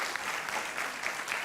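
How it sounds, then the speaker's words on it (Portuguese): Studio audience at a 1993 Portuguese television show applauds a guest, a fairly faint but continuous wash of clapping hands heard alone. "Palmas aqui para o pai do Fernando Pereira."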